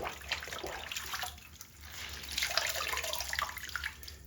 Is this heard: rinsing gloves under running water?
yes